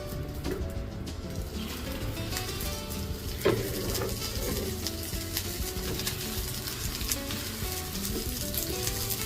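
Masala pav frying in ghee on a hot pan for Mumbai street-style cheesy masala pav, giving a steady close sizzle with faint crackles and one brief clatter partway through.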